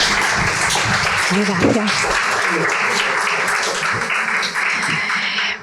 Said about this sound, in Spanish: así que un fuerte aplauso para las dos.